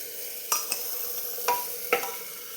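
Spices roasting in a pan, a faint steady sizzle punctuated by four quick scraping stir strokes at irregular intervals.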